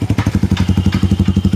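A Hero Passion Pro BS6 motorcycle fitted with an SC Project exhaust idles close by, its loud, steady, rapid thumping pulse repeating evenly with no voices.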